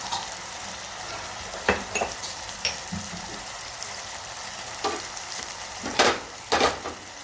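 Ground spices such as turmeric, red chili, garam masala, asafoetida and coriander-cumin powder sizzle in hot oil in a pan while being stirred, with a constant frying hiss broken by scraping stirs near the end.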